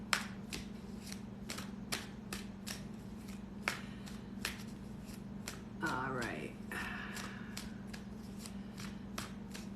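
Tarot cards being shuffled make rapid, repeated crisp riffles and snaps close by, with a quiet background hum and a brief rustle partway through.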